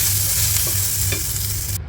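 Chili, coriander and turmeric powders sautéing in a hot pan for a brinjal curry masala, giving a loud, dense, continuous sizzle with faint stirring and no voices.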